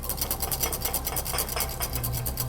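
Béarnaise butter sauce is whisked briskly in a bowl, giving close, rapid, regular scraping strokes in a steady rhythm from start to finish, with no voices.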